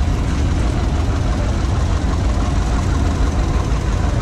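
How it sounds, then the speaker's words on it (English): A mid-1950s to early-1960s John Deere Model 620 tractor at a threshing show runs close and loud with a steady, deep, throbbing engine chug that holds even throughout. "mid-50s, early 60s era, John Deere Model 620, owned by Caden Alkire and driven by Caden"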